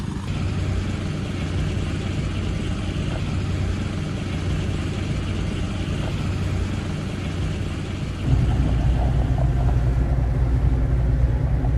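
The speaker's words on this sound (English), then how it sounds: "The sound of the engines back on, anchor getting pulled up." Continuous low rumble of a cargo ship's engines starting as the anchor is pulled up, droning steadily throughout, growing slightly louder and deeper near the end.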